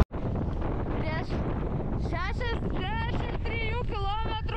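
Strong gusting wind roars continuously against the microphone on an island, a dense, loud buffeting throughout, while a person speaks over it.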